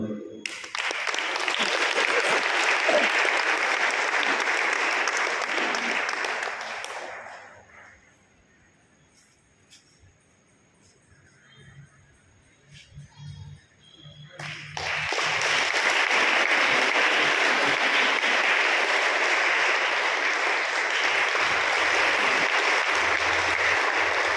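Applause from a congregation at a Tamil Lenten mass in church: two long bursts of full, steady clapping, separated by a quiet pause of several seconds.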